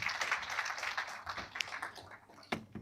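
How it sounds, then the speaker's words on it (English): An audience at a summit claps for a speaker, a steady wash of hand claps from a crowd that thins out toward the end. "Can we clap for him"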